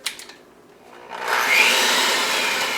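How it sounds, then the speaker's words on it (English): Electric mixer starting up in chocolate cake batter: a few brief clicks, then a steady loud whirring drone close by that holds to the end. "I'm going to grab my mixer"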